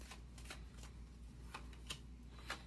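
Tarot cards being shuffled and drawn for a reading, a soft close-up series of quick riffling flicks and snaps, faint and without talk.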